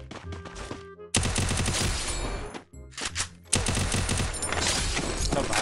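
Rapid gunfire in the battle royale game Garena Free Fire, dense bursts of automatic shots in two long stretches with a short pause between, loud and without talk.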